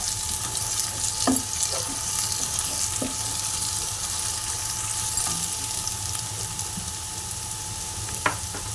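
Ginger garlic paste with sugar frying in a pan, a steady close sizzle with occasional faint stirring knocks, no talking.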